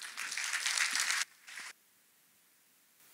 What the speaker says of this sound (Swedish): så en stor applåd för Therese.